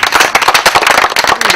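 A large audience at a public talk on insecurity in Uganda breaks into loud, dense clapping, a close, continuous burst of many hands with sharp overlapping claps and no speech.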